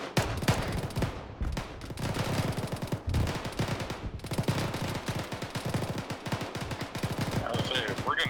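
Rapid, dense gunfire from a military video game crackles almost continuously, with bursts of automatic fire and overlapping shots and a few brief pauses.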